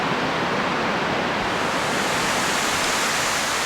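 Waterfall at Plitvice Lakes National Park in Croatia, a dense, steady rushing roar of falling water, loud and unbroken throughout, with no voices.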